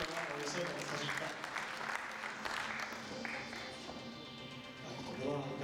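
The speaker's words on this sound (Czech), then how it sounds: "A můžete jim ještě tleskat takhle do kroku" An audience at a Prostějov sports awards ceremony claps steadily in rhythm for the athletes, dense sustained applause with an announcer's voice speaking over it.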